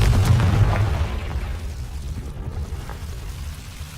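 A Confringo blasting spell explodes in Hogwarts Legacy, a heavy booming burst at the start that rumbles and fades away over the next few seconds.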